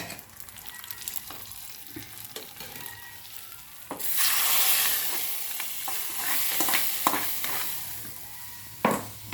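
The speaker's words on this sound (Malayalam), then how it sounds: "ഇനി നമുക്ക് വറവ് ഒഴിച്ച് കൊടുക്കാം മീൻ കറിയിലേക്ക്" A tempering of curry leaves poured into fish curry bursts into a loud sizzle, then settles into a steady crackling fry with a few stir clinks, close and without voices.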